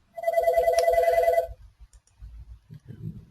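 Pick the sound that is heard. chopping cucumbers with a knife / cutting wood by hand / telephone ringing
telephone ringing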